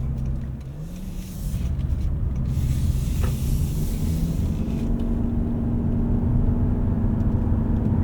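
A 2025 Toyota Camry XSE AWD's 2.5-liter engine drones low and steady while driving, a smooth muted hum with road rumble and no voices.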